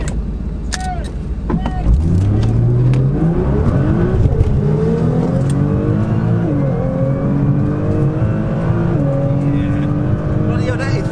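A 750 bhp Nissan GT-R launches at a drag strip with traction control off, engine revving and accelerating hard, pitch climbing through several automatic gear changes, loud and close, with faint voices underneath.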